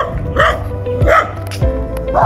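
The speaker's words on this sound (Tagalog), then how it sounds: "At ito nga yung mga aso." Several dogs bark in loud, repeated bursts close by in a rural area around San Ildefonso, three sharp volleys spaced through the moment with some background noise between them.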